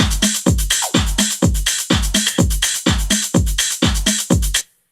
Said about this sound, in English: you can hear that rim sound sits a little bit outside the mix